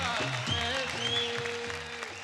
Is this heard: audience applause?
yes